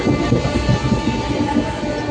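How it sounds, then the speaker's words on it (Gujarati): The steady rumble and hum of a moving train heard from inside the carriage, loud and continuous, with a faint rhythmic rattle. "આજે ટ્રેનમાં પહેલી વાર સફર કરી રહ્યો છે"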